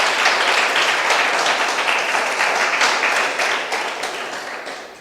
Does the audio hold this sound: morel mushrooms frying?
no